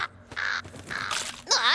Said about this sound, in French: Ce corbeau de malheur m'a mordu!